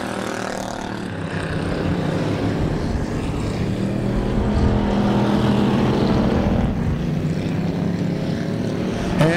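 Wissota Pure Stock race cars roar around a dirt oval in a continuous loud engine drone that rises and falls as the pack races tightly for first place.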